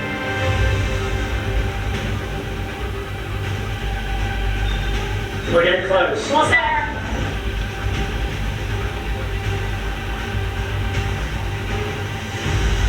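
A steady low rumble of a Brightline train running along the rails, with a brief screeching squeal midway and a person speaking over the noise.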